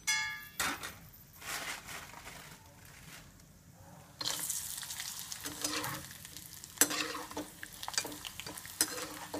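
Avalakki sandige, flattened-rice fryums, drop into hot oil and crackle into a loud, bubbling sizzle, with stirring and scraping of a utensil against the pan between bursts.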